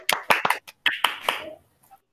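A group of engineering students clapping in a classroom, heard as a short run of sharp, separate claps, fairly close, that fade out after about a second and a half, with no talk.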